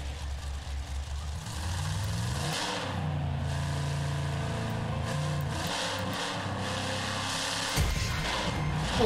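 In a video game, a monster truck engine revs hard at the start and holds a loud, steady drone with small surges in pitch, and a brief drop near the end.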